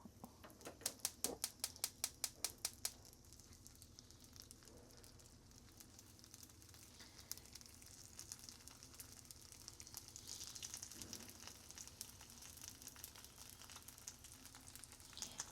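Tofu steaks fry in a pan with a soft, continuous sizzle, opened by a quick run of sharp tapping clicks, then a steady crackle that swells slightly later on. No one speaks.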